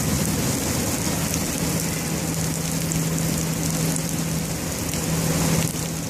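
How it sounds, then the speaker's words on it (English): Heavy rain pours steadily during a severe thunderstorm, a dense even hiss of drops on surfaces with a low faint hum beneath, continuous and close, with no voices. "Here comes the rain."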